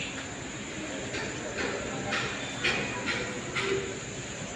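The 12786 Ashokapuram–Kacheguda SF Express rolls past platform 1 at Gooty, a steady loud rumble and hiss broken by rhythmic wheel clacks roughly every half second.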